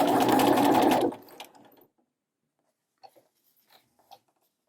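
A sewing machine with a narrow hemmer foot hems a seam in a quick, loud, close burst of rapid stitching lasting about a second, then slows and stops, followed by a few faint clicks and handling taps.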